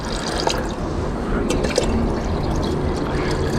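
Dissolved SMB solution is poured into aqua regia during refining of 9K and 10K gold jewellery, giving a steady close liquid pour with small drips throughout.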